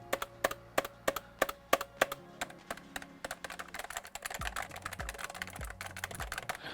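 Typing on a QPAD MK-40 Pro membrane gaming keyboard: about a dozen crisp, evenly spaced keystrokes close by, then a faster, busier flurry of clacks and bottoming-out taps.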